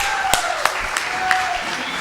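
Applause during a Brazilian municipal council session honoring people who fight prejudice, a steady broadband crowd clapping wash with a few sharper claps standing out, fairly loud and continuous.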